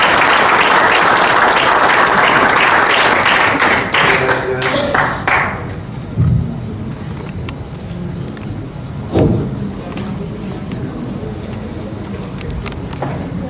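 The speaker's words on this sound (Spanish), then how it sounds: "Un aplauso para él, Monseñor Ramón Benito." An audience applauds Monsignor Ramón Benito, a pastoral leader for older adults in the Dominican Republic, with loud dense clapping that fades out after about five seconds, followed by quieter room noise and a few scattered knocks.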